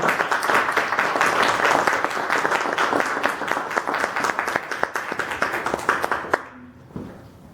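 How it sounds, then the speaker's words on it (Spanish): An audience applauding to welcome an author at a university event, a full burst of clapping that thins to scattered individual claps and dies out near the end. "Quiero que la recibamos con un fuerte aplauso"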